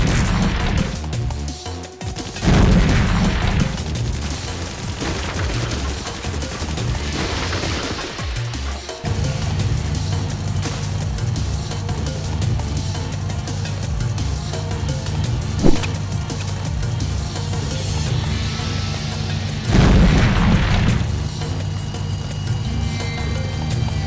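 Gunfire and explosions from Guerrilla Bob, an iPhone video game in Mercenary Mode, with several loud crashing bursts over a steady droning background rumble that continues throughout.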